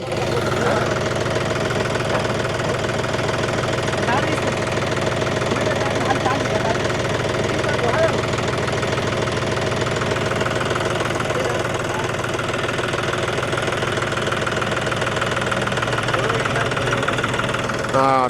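A tractor engine idles steadily with a low knocking throb throughout while hay bales are tied with rope, and voices talk over it.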